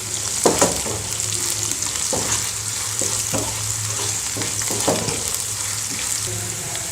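Cumin seeds fry with sautéed onions in a pan, giving a loud, steady sizzle up close, broken by scattered scrapes and clinks of stirring.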